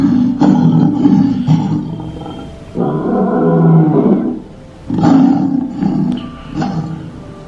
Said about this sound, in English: I want to hear lion.